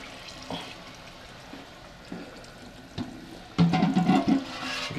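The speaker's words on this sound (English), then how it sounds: "What we're doing now is we're washing the grain." Water pours and splashes over grain being rinsed during homebrew beer making, a leftovers ale, with quiet dripping and trickling at first, then a louder, sustained gush of running water near the end.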